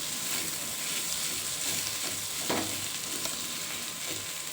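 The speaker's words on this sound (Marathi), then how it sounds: "आता टाकूया याच्यामध्ये बटाटा. हे छान सर्व मिक्स करून घेऊ." Steady sizzling of potato frying in a pan with crushed peanuts, with a brief scrape of stirring partway through and a constant bright hiss underneath.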